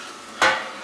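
A single short stir of the mash during an IPA brew day, one quick swishing scrape lasting under half a second against a quiet background.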